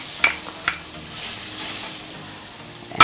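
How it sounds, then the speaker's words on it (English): Ginger and garlic fry in a tablespoon of oil, giving a soft steady sizzle punctuated by a few sharp stirring clicks against the pan, close and alone. "in a tablespoon of oil I'm going to add the ginger and garlic"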